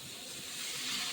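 Water hits frying spices in a pan for pabda fish curry, setting off a steady, hissing sizzle that swells slightly louder toward the end of the short burst.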